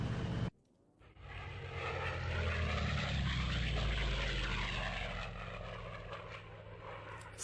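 Propeller fighter aircraft engine from the IL-2 1946 flight game, droning loud and steady as it climbs, swelling after a brief dip near the start and easing slightly toward the end.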